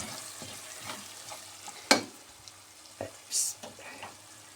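Food frying in plenty of vegetable oil while rice is toasted for pilaf, with a soft steady crackle, a few sharp clicks of a utensil against the pan, and brief louder bursts of sizzle.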